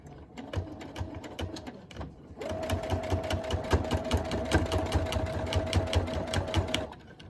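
A sewing machine stitches a finished edge onto a fabric purse journal with a long stitch length. Its rapid, even needle clatter is close and steady, pauses briefly, then returns at a faster, louder pace with a humming motor, and no one talks.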